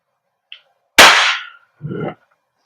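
A WE Glock 17 Gen 5 airsoft gas blowback pistol fires a single loud, sharp crack with a brief decaying hiss, preceded by a faint click and followed by a duller mechanical clack.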